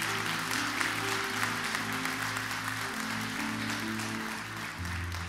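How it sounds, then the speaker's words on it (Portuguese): A church congregation applauds, a continuous wash of clapping over sustained organ or keyboard chords, with no talking. "Pode aplaudir o Senhor."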